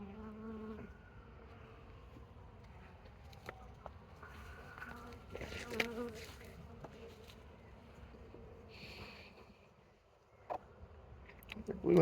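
Honey bees buzz steadily around an open hive during an inspection, a faint, close drone that lasts throughout, with light handling clatter and a brief murmur of voice mixed in.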